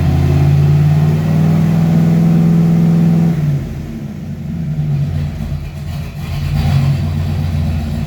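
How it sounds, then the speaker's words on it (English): A 1995 Ford Mustang engine with a freshly swapped C4 automatic transmission revs loudly and close up, running up through the gears, then settles to a lower, rougher note. "kind of running it through the gears a couple times"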